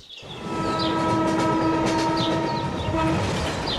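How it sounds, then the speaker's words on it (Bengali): A train passes close by in front of a bungalow in a Bengali audio drama, a loud steady rumble of wheels with sustained horn tones held throughout, no voices. "ট্রেন যায় একেবারে ওদের বাংলোর সামনে দিয়ে"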